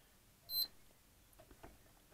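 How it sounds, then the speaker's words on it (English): A diode checker gives one short, sharp electronic beep while diodes are tested, followed by faint handling clicks in a quiet room. "check these diodes on the diode checker"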